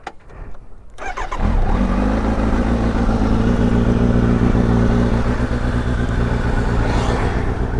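A motorcycle engine on a Sunday group ride starts up after a brief rattle, then settles into a loud, steady, close idle with a continuous low rumble.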